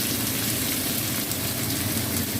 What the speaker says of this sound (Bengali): ফোড়নটা হয়ে গেছে, আমি পেঁয়াজ কুচুনোটা দিলাম।